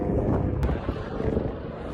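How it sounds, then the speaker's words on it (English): A helicopter passes overhead in the Himalayas near Namche, a low, rumbling rotor drone mixed with wind buffeting on the microphone, moderately loud and fairly steady. "Sorry, helicopter flew over."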